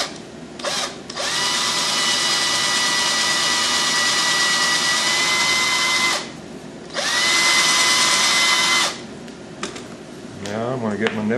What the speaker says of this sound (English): so I'm going to drill it at a slight angle